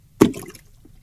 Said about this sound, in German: der Stein plumpset ins Wasser